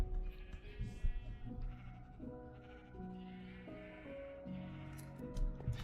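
Sheep bleating in a Minecraft survival world, several wavering bleats overlapping one another at a steady close distance over a low background hum, with no talking.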